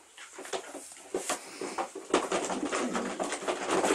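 Pigeon held in the hand at a breeder's loft, making soft cooing and rustling, fluttering sounds up close, with repeated short bursts that grow busier partway through.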